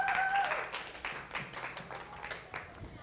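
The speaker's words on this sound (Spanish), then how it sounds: "Un aplauso para la profesora Marisa Lazo." Applause at an academic talk greeting Professor Marixa Lasso, a roomful of hands clapping steadily at moderate distance, with a brief tonal sound at the start.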